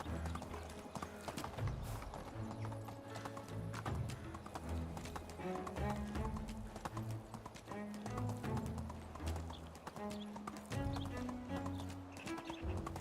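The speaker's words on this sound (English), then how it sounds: "Giddy up." A horse gallops in the medieval village-building game Medieval Dynasty, with fast, steady clip-clopping hooves running throughout over the game's background music and ambience.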